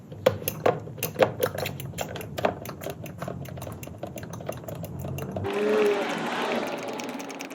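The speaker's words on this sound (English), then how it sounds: "Pump this fluid out as much as you can" A hand soap pump pulls power steering fluid out of the reservoir of a 3rd gen 4Runner with the 3.4L 5VZ-FE engine. A busy clicking, squelching rhythm of pump strokes is followed by a softer wet, bubbling gurgle.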